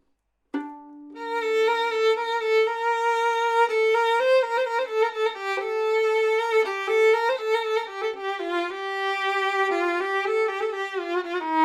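Refrain of an Iraqi song played on a melodic instrument, a sustained opening note followed by a descending, repeating ornamented pattern, clear and solo without voices.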